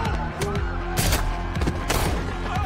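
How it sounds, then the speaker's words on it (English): Dense, rapid gunfire from a John Wick movie scene bursts out in overlapping volleys, loud and continuous, mixed with film soundtrack noise. "The security people are shooting so much that they're missing him."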